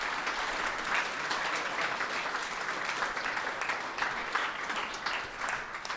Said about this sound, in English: You all did your best today, and you deserve a round of applause.